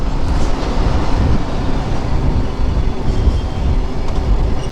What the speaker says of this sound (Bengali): কার্গো ট্রেন, যদিও প্যাসেঞ্জার ট্রেন না।